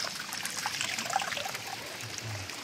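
Fresh water trickles and splashes steadily over rocks outdoors, a continuous bright babble at moderate level with no talk.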